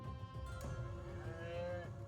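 A cow in a farming fan video game gives a low, drawn-out moo, faint and steady over a soft background hum.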